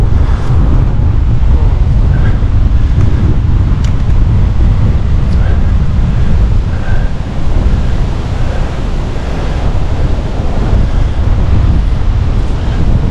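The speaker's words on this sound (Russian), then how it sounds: "Ветер сумасшедший просто." Strong wind buffets the microphone while someone cycles a long distance on a mountain bike, producing loud, constant low roaring gusts that last the whole time with no pause.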